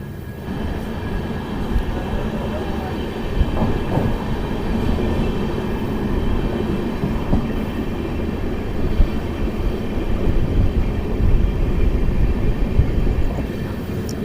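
The 14090 Kotdwar Express, an LHB rake, pulls away from Saneh Road with a steady, loud rumble and rolling rail noise heard from on board, with no voices.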